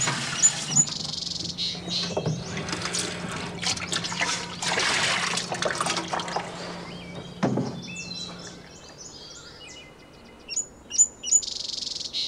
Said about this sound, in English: Pour the paste into the paw print.